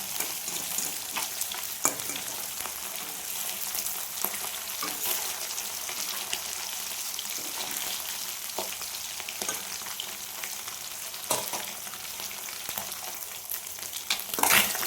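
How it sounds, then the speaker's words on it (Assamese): Walking catfish (magur) fry in oil in a pan that is covered at times, giving a constant crackling sizzle punctuated by sharp spits and pops, heard alone. "এইখিনি মাজে মাজে ঢাকন দিছোঁ, দি পেলাই ভাজিছোঁ, নহ'লে ফুটি যায় মাগুৰ মাছ।"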